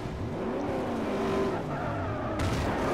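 A Pontiac race car in Forza Motorsport 4 power slides, its engine droning steadily under tire squeal as it skids, then ends in a brief crashing impact near the close.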